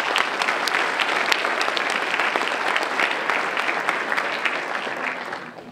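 Applause from the audience at a high school fall sports awards night, a steady roll of many hands clapping in a gym or auditorium that gradually tapers off.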